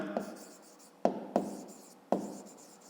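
Pen on paper while solving a fifth-grade math exercise: soft, faint scratching strokes with several sharp taps as the pen meets the page, spaced irregularly across a few seconds in a quiet room.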